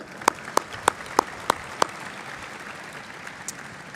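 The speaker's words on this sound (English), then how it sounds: "Let's all give ourselves a big round of applause" A handful of sharp claps at an alumni awards event, six spaced hits in quick succession followed by one more after a pause, over a quiet room-like background.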